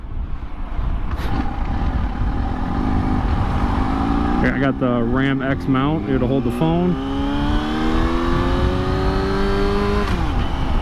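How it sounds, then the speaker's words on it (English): A Yamaha R6 motorcycle with a slip-on exhaust is heard from the rider's seat, its engine revving up in rising, wavering pitches under steady wind rumble before settling, while someone talks over it. "I got a Devil's slip-on exhaust kit. Yeah, not the full thing, but I mean, it does sound good on this bike"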